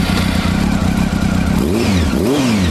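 A car engine revs loudly and close through an unmarked aftermarket exhaust, with a rough idle rising into two sweeping revs near the end, no talking.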